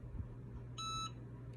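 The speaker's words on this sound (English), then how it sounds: "It's about to beep." A Cricut EasyPress 2 heat press gives a single clear electronic beep lasting about a third of a second, over a low hum from the room.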